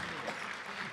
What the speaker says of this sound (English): let's give one more round of applause to Miss Mendoza and the SHS Jazz Band.